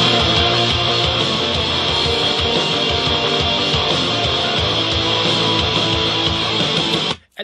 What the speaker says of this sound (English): Now you're listening to drums, bass, and rhythm guitars.